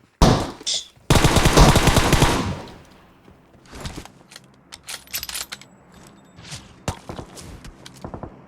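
Loud, sustained automatic gunfire rattles in a first-person shooter game, followed by scattered single shots, clicks and mechanical handling noises at varying distances.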